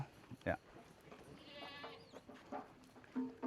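Goats bleating at a goat farm in Canada, a few short bleats spread across the moment amid faint farmyard background noise and some distant voices.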